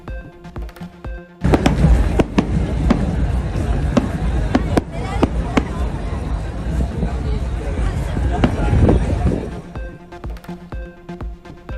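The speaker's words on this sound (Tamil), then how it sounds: "இலங்கையில் வான வேடிக்கையுடன் புத்தாண்டு கொண்டாட்டம்." New Year fireworks over Colombo, Sri Lanka: a dense barrage of sharp pops and crackling bursts rises suddenly and continues for several seconds over crowd hubbub before ending abruptly.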